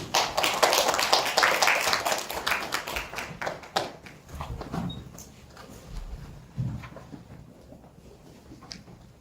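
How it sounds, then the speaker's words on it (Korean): Audience clapping at a church pastors' forum to welcome a pastor, a scattered crowd applause that is fairly loud at first and thins out over several seconds to a few last claps. "우리 박수로 환영하겠습니다"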